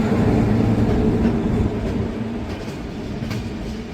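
An Indian passenger train rolls past on the rails with a steady, loud rumble and faint clatter, easing slightly in level over the few seconds.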